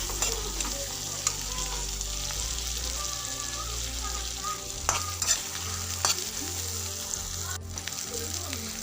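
Whole cumin seeds frying in a pan for egg curry, a steady close sizzle with scraping stirring strokes and occasional spoon clinks, no talking.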